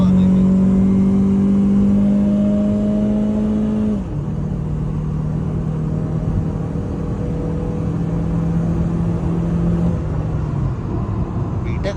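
A BMW E46 drift car's engine drones with a steady, loud tone that drops in pitch partway through and then holds near and constant.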